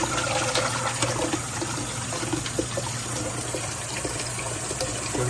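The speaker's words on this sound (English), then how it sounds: "Washing the turkey meat" Tap water runs steadily into a sink while turkey meat pieces are washed, a continuous loud splashing stream with no pauses and no voices.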